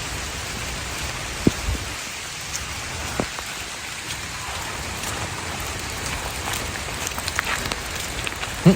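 Steady heavy rain pours down on a forest trail beside the Lam Takhong stream in Khao Yai, a continuous broadband hiss, with occasional louder drips and splats standing out close by.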